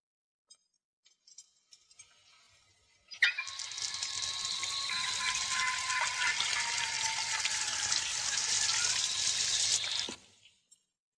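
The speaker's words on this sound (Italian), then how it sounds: "Le preparo la doccia, signorina." Water runs for a shower in a 1989 period drama, a steady hissing gush that starts abruptly, flows loudly and evenly for about seven seconds, then cuts off, with no voices.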